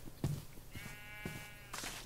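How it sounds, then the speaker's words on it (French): A sheep in a video game gives a single wavering bleat lasting about a second, fairly close and moderately loud, framed by faint clicks and ambient game noise, with no talking. "Attends, les moutons."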